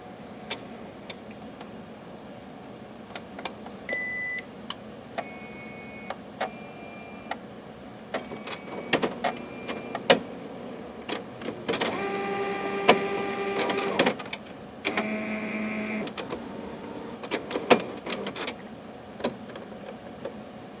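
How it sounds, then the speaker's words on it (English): An inkjet printer powers up and runs its test cycle, with whirring motor whines, clicks and ticking print-head movements. The mechanical bursts come and go close by, louder in the middle stretch, with no voices. "Still powering up. I guess it's going through its test cycle, moving the heads a little bit."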